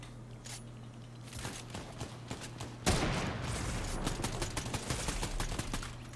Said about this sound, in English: I'm on the hill right here, shooting at us.